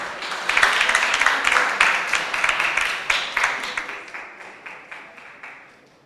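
At a closing ceremony for a science and technology innovation challenge, a crowd claps for Ghana National College, warm, dense applause that holds steady and then gradually fades away.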